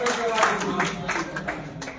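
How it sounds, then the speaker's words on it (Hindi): An audience at a Hindi literary festival in Haridwar claps together for a host, giving a continuous, fairly close patter of many hands with a voice briefly heard over it. "मैं चाहती हूँ एक बार आप सर के लिए जोरदार तालियों से"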